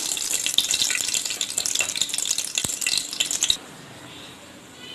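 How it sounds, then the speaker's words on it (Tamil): Fenugreek seeds frying in hot oil for moong dal rice, a steady close sizzle and crackle that stops abruptly partway through, leaving a faint quieter hiss. "வெந்தயம் பொரிஞ்சிருச்சு"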